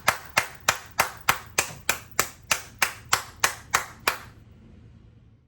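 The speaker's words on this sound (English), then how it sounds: "I applaud you. Applaud yourself." A single pair of hands claps about twelve times in a steady, even rhythm, each clap sharp and close, before stopping into quiet; offered as applause for the OCAD University graduating class of 2020 at a virtual convocation.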